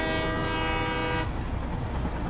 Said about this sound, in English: So these trains are loud.